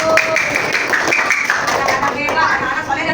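Children in a classroom clap along in short bursts of uneven taps mixed with voices and classroom chatter.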